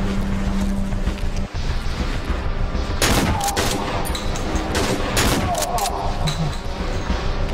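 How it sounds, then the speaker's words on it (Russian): Shotgun blasts and heavy gunfire in the horror video game Cry of Fear crack out over a dense, noisy game soundscape, several sharp reports clustered near the middle of the stretch. "Если я с дробовика в него высажу."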